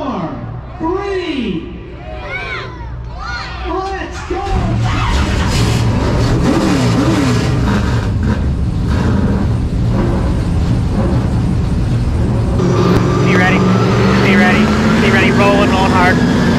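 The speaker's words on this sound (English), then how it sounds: "All right, let's fire these trucks up." Race trucks at Dells Raceway Park roar to life, and a loud, sustained engine drone builds as they rev together. An announcer's amplified voice speaks over the noise.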